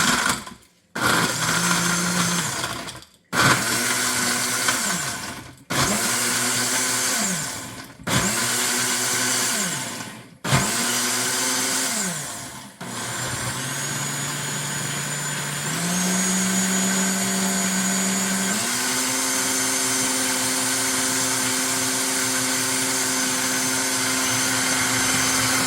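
A kitchen blender whizzes a Juice Plus smoothie in several short pulsed bursts with brief pauses, then settles into one long continuous high-pitched whir that climbs in speed.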